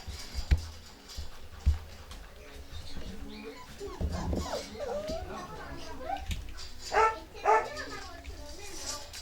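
Dogs at an animal shelter housing around eighty dogs, barking and whimpering at moderate distance in a busy room, with a few sharper yelps near the end mixed with background voices.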